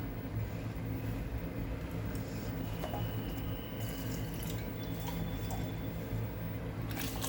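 About half a glass of water is poured into a pot of mint rice with carrots, potato, onion and tomato, heard as a steady close splashing and trickling that runs the whole time.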